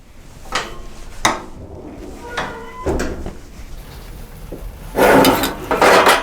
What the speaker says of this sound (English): So I'm going to go ahead and take the beef out of the oven.